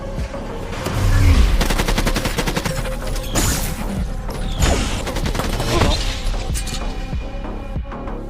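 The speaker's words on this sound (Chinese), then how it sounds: "这时另一同伴从车中爬出，迅速开枪救下达蒙" Rapid bursts of gunfire ring out during a sci-fi action movie fight, as a man climbs from a vehicle and shoots at a cyborg attacker; loud, dense shots and mechanical clatter dominate, with a voice faintly underneath.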